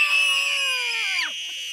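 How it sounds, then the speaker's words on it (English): A single high-pitched scream, loud and close, holding for about a second before dropping off sharply. "We all scream for Grubby."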